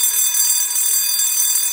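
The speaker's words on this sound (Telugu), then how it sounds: "కనీసం అలారం అన్న ఆపరా" A shrill alarm clock rings without pause in a domestic scene, a continuous bright high-pitched buzz that runs steadily throughout, with no voices over it.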